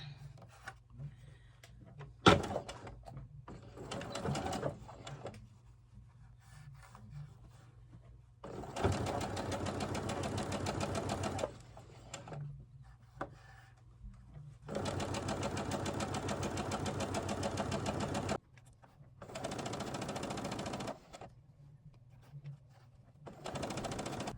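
A serger hemming a doll dress for an 18-inch doll runs in several bursts, some short and some several seconds long, each a rapid mechanical whir. Quiet pauses and faint handling noises fall between them.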